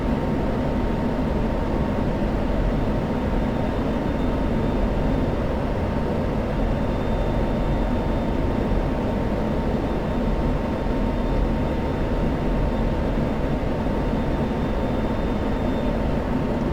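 Steady, dense roar of an F-16C Viper jet in level cruise at altitude in the DCS World flight simulator, a continuous broadband engine rumble with a faint tonal hum, unchanging throughout.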